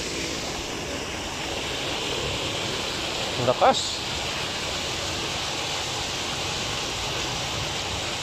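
River water rushes in a steady, loud broadband wash after rain, with a brief knock and a short spoken word partway through.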